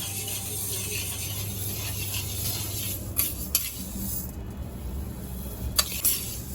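Lentils dry-roasting in a pan over a low gas flame, stirred steadily with a utensil, giving soft scraping and rattling with a few sharper clinks against the pan, no voices.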